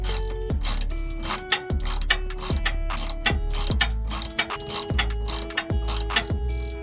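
Repeated ratcheting clicks and metallic tick-tock strokes from tightening bolts under a Mazda 3 resting on the ground, coming in steady bursts roughly every half second, close and fairly loud, with no talking.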